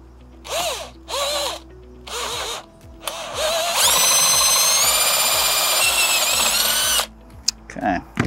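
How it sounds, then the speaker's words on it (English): A power drill bores a pilot hole up through an aluminum handrail post, first in a few short bursts, then in one long steady high-pitched whine lasting several seconds, followed by brief final pulses. "we're going to use our drill here to drill up pilot hole through there"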